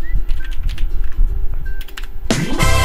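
Rapid typing on a computer keyboard, a quick patter of close, sharp key clicks, ending in a louder burst of other sound.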